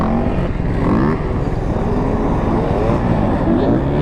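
Quad ATV engine revving hard and steadily while spinning donuts, a loud, continuous roar up close with voices faintly mixed in.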